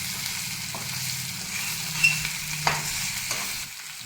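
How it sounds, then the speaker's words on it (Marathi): Chutney stirred through a dry eggplant dish in a pan, with a soft continuous sizzle under a few scraping knocks of the spoon against the pan, close and fairly quiet, no talking. "आणि ही चटणी सगळीकडे आता मिक्स करून घ्यायची आहे आपल्याला।"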